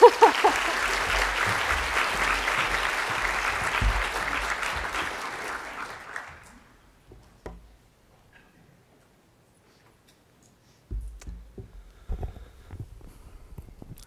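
Audience applauding steadily at a social work conference as a speaker is welcomed to the podium, a sustained clapping that fades out, followed by a near-silent gap and a few scattered sounds.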